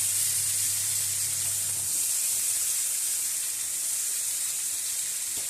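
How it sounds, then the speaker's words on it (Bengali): Steady, even frying hiss from mango pieces cooking in a pan for achaar over a gas flame, a broad sizzle that holds level for several seconds without pause or voices. "ওই গ্যাসের হিটটা একটু কম বেশি করে আমটা ভাজতে হবে, যাতে নিচে না লেগে যায়।"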